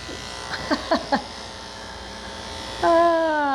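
Electric dog grooming clippers fitted with a 10 blade (1.6 mm) hum steadily on a Morkie. A few short voiced sounds cut in early, and near the end the clippers' pitch rises into a louder whine.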